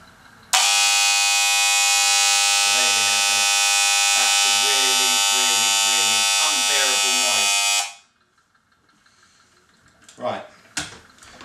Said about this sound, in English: I'll plug the clipper in. I'll pre-warn you, this is going to make a terrible noise